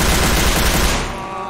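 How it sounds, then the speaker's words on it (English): Rapid, dense gunfire from several weapons in the video game Garry's Mod DarkRP, loud and close in an unbroken burst that tapers off near the end. "So many gunshots"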